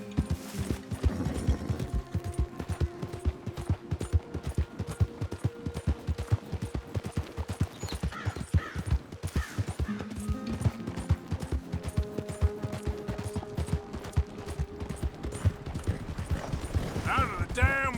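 Galloping horse hooves in Red Dead Redemption, a steady rapid rhythm of hoofbeats running throughout, loud and close, with brief game sounds and a voice cutting in now and then.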